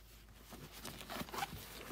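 A zipper on a waterproof vinyl carrying bag for a DJI Mavic Air 2 drone is drawn in a few quick, faint scratchy pulls, close by and alone.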